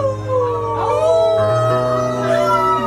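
People howling like wolves, long sustained wavering howls from several voices overlapping and sliding in pitch, loud and close, imitating wolves.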